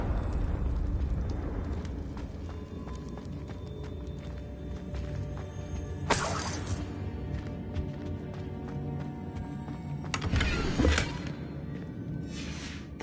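Confringo fire spell blasts in a Harry Potter video game, two loud bursting whooshes standing out over a busy game soundscape of footsteps and ambience.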